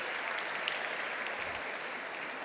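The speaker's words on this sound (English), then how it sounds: "Give them another round of applause" Audience applause at a store launch event, a sustained dense wash of many hands clapping at steady volume throughout, with no one speaking over it.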